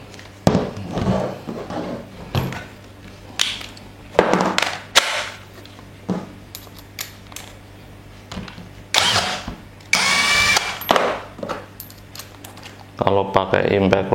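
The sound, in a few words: cordless impact driver loosening screws, NRT Pro DC-343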